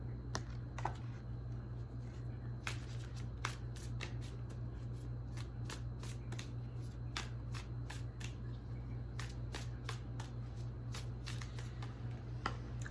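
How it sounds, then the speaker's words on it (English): Tarot cards handled and slid back into a deck after several flip over, giving a steady run of soft riffling and sharp card snaps and taps over a low constant hum, with no talking. "like half the deck flipped over. Let me put those back."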